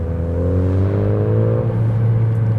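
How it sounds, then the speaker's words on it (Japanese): An FK7 car's exhaust drones steadily through an HKS Hi-Power Spec L2 muffler, a deep idle rumble with a gentle rise and fall in pitch, close and loud. "これが今街乗りのハイパワースペック L2 のマフラーの音。"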